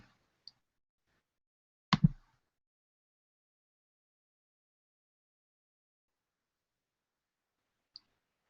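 A single computer mouse click, short and crisp, sits in near silence, with a couple of faint ticks around it.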